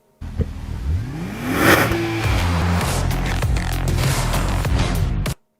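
A Nissan 400Z with a twin-turbo VR30 engine starts up and revs, its pitch sweeping upward before settling into a loud, steady mid-range drone, close and alone before cutting off abruptly.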